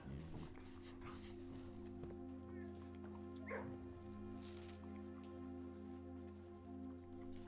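A dog barks a few times in the Blue Prince video game, a brief burst around the middle set over a steady droning music bed with constant hum and faint rain-like hiss.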